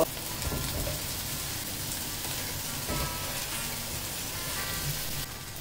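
Okra frying in a pan, a steady dense crackling sizzle that holds at an even level throughout, close and continuous with no voices.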